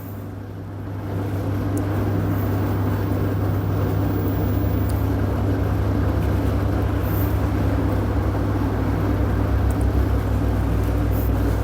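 An LG top-load washing machine runs after a drain motor repair, starting up within the first second and then holding a steady, loud low hum and whir for the rest of the clip, with no speech.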